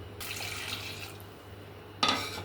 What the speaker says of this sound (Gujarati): એમાં આપણે પાણી એડ કરીશું